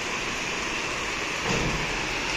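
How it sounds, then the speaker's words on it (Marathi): Heavy rain pouring in Pune, a dense, steady hiss of water falling and drumming on surfaces, continuous and fairly loud, swelling slightly toward the end with no voices. "खूप स्पीडनी पाऊस येतोय"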